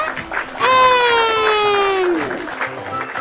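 Applause from a small group breaks out, topped by a bright, rising-and-falling cheer, for a children's alphabet lesson; the clapping is brisk and steady for about two seconds, then fades.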